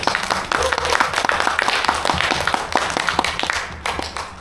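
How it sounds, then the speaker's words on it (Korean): Lecture audience at Seoul National University's Wooseok Economics Hall gives a warm round of applause: dense, steady clapping from many hands fills the room at moderate loudness, with a faint voice underneath. "정한기 박사님께 우선 큰 박수"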